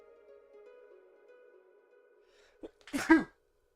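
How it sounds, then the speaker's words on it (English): A single sharp sneeze bursts out close and loud after a low background hum and a quick intake of breath. "I'm gonna sneeze."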